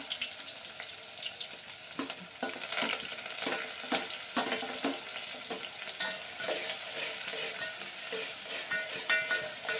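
Onion and green chilli fry in a cumin and mustard seed tempering in hot oil, giving a dense, continuous close sizzle broken by frequent stirring scrapes, with no talking.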